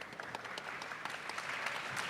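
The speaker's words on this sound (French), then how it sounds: "Faut aller venir en dernier pour avoir quelques applaudissements." A seated audience at a science event claps in a short, steady round of applause, heard faint and even from a distance.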